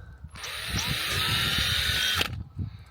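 A power drill whines steadily for about two seconds while drilling holes in a VW Caddy micro camper's headliner, then stops, with low background knocks and rumble around it.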